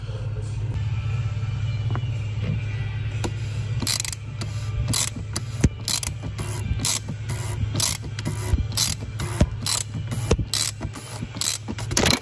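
A ratchet clicks in quick repeated bursts while tightening the plastic oil filter housing on a BMW B47 diesel, close and crisp over a faint steady hum.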